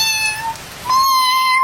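An orange cat meows twice nearby, two clear tonal calls with a short pause between them, loud and alone without talk.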